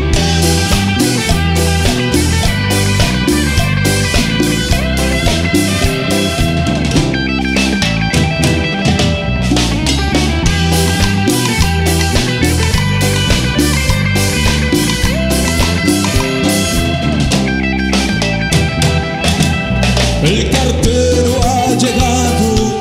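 A song plays as a full, dense band recording with steady rhythm and strong bass, loud and continuous throughout, with no talking.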